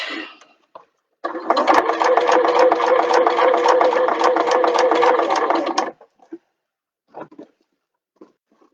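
A sewing machine stitching a bag runs in one loud, steady, rapid-pulsed burst of nearly five seconds, with brief faint handling noises before and after.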